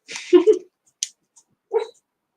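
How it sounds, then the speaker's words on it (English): A dog gives a few short, close whimpering yelps and barks in separate bursts with gaps of quiet between them. "Dog screaming."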